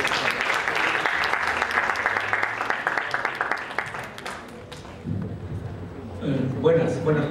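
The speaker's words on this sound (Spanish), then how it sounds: "Un fuerte aplauso realmente a nuestro amigo y maestro" A conference audience at a medical ultrasonography talk claps for an introduced doctor, a fairly even burst that fades out after about four seconds, followed by a voice starting to speak close to the microphone.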